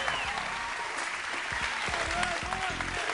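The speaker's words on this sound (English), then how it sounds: "We have a round of applause for Steve and his magical bowling ball here." A studio audience applauds for Steve and his magical bowling ball on a hidden-camera show, a dense, steady wash of clapping at full level for the whole stretch, with faint voices and tones underneath.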